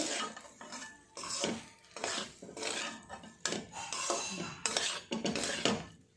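A spoon scrapes and clatters against a pan while aloo capsicum curry with fried capsicum pieces is stirred, a steady run of close metallic scraping strokes with brief pauses and no talk.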